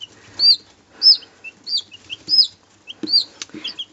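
Small chickens peep in short, high chirps, in clusters of about seven spread over a few seconds, with soft rustling and scratching in the pauses; no voices.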